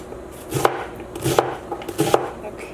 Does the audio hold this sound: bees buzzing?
no